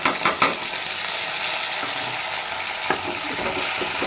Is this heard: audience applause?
no